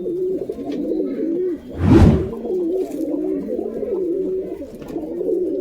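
Pigeons coo steadily and throatily, close by and loud, at a pigeon seller's collection. A brief whoosh of wing flaps breaks in partway through.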